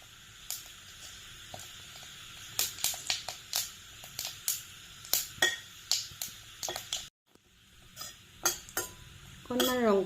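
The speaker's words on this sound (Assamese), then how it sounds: "এয়া মই মাছ ভজা কেৰাহীটোতে অলপমান পাঁচফোৰণ দি ল'লোঁ" Panch phoron spices sizzle in hot oil in a wok used for frying fish. A utensil stirs and scrapes the pan, making a rapid series of sharp, close clinks over a soft background crackle.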